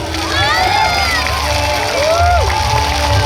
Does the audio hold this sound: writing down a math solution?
no